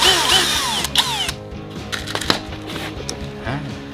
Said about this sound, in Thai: ผมก็จะใช้โฮจอเจาะนะครับเพื่อให้รูมันสวยงามมากขึ้นนะครับ